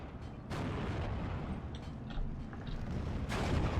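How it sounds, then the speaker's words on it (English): Infantry support guns fire in the strategy game Steel Division 2, with booming blasts at the start and end over a dense, rumbling wash of distant battlefield gunfire. "It was infantry support guns having a hard time seeing anything without any recon nearby."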